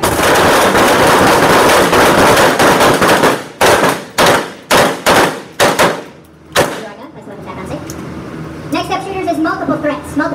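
Rifle gunfire on an Air Force BMT weapons training range, with several sharp, loud shots fired in a quick, uneven burst close by, each one ringing out briefly before dense background noise returns.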